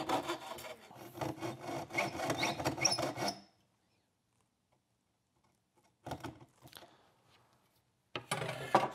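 A hand saw rasps back and forth through a wooden baseboard profile to cut a coped joint, with rapid close strokes, then a long silence and two brief further bursts of sawing.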